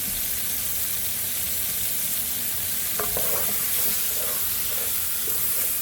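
Garlic fries in a pot as the start of a homemade chicken broth, a steady, close hiss and sizzle that runs continuously, with a few brief stirring clinks partway through.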